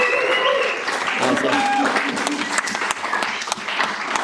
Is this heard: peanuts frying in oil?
no